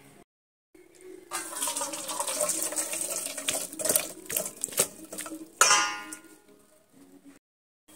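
Water drains from washed spinach through a perforated colander, pouring and splashing with metallic clangs and knocks of the bowl in a kitchen, loudest in the middle, then tapering off into quiet.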